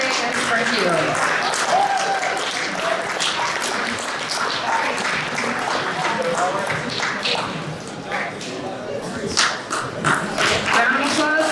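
Clapping from a crowd at a school sports award banquet honoring the varsity baseball team, steady and fairly loud across the clip, with voices and murmur mixed into the applause.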